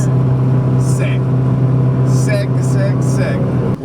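A right-hand-drive Honda Civic Type R cruising on the road, a steady low engine drone with faint background sounds and brief voices over it.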